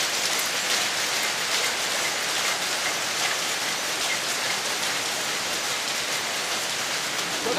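Old Dundee-built jute machinery runs in a mill, its weaving and processing gear giving off a loud, dense, unbroken roar with a fine hiss and no clear beat, heard close up without any talk.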